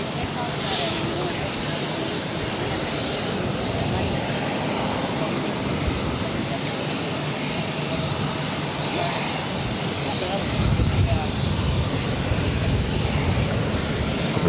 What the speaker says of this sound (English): United Airlines 2067 taking off to Newark on the A319.